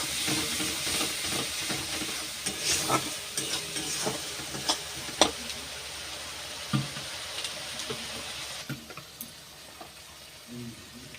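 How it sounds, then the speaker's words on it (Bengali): Spice paste with a little water sautés in a pan, a close, continuous sizzle and hiss broken by repeated scraping stirs and clinks, with a voice speaking faintly at times. "যাতে মশলা না পুড়ে যায় তার জন্য অল্প একটু জল দিয়ে দিলাম দিয়ে আবার কষিয়ে নেবো"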